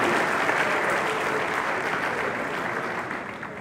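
An audience applauds the new female president of the AIC, with loud, dense, continuous clapping that holds steady and eases off slightly toward the end.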